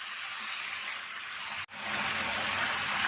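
Water added gradually to mutton curry as it fries in a pan, giving a steady, even hiss and gush throughout with one brief dropout midway.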